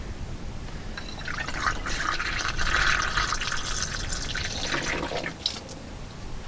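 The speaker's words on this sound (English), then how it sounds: "I'm just going to go ahead and pour some into the radiator." Orange coolant glugs and trickles as it is poured into a car radiator in a driveway, a steady liquid fill lasting several seconds before tapering off.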